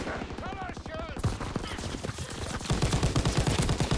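Turret gunfire in Call of Duty WWII, a fast, steady stream of shots that grows louder and denser in the second half, mixed with other battle noise while a player talks over it.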